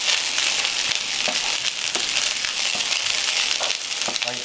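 Mushrooms fry in a pan over medium heat, a continuous close sizzling hiss with faint crackles and occasional soft stirring taps.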